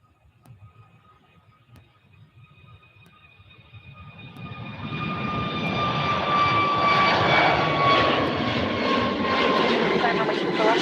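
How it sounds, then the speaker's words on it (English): A Frontier airliner jet departing on takeoff at Cleveland Hopkins International Airport, its engine roar swelling from a faint distant whine into a loud, sustained rumble with rising tonal whistles, over low background noise. "We get a departure, United. Actually, Frontier."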